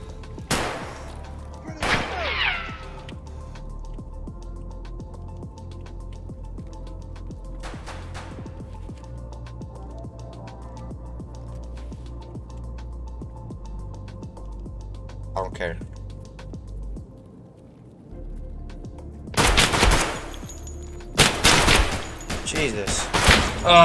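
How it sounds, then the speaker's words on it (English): Gunfire in Escape from Tarkov, a loud burst of rapid shots near the end with scattered shots earlier, under a steady background hum and clatter. "Why are you shooting at me,"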